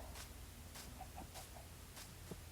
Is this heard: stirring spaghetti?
no